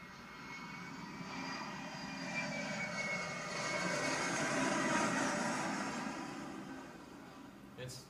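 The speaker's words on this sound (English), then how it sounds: "And here's the sound of a jet." A recorded jet aircraft engine plays back as a steady broad roar with a high whine on top, swelling toward the middle and easing off, with faint voices in the room around it.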